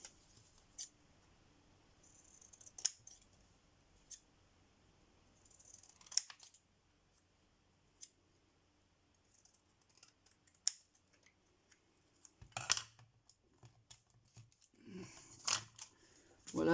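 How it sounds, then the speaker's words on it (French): Scissors cutting small pieces of paper during a card-making craft session, a series of sharp, quiet snips in irregular bursts with pauses between, close by in an otherwise quiet room. "Des ciseaux, des ciseaux."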